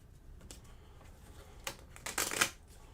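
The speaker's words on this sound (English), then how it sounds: "It is a small deck that is tricky to shuffle." Soft, quick riffling of a small deck of cards from the board game Stars of Akarios, a few brief flutters building into a denser burst of shuffling near the end, fairly quiet and close.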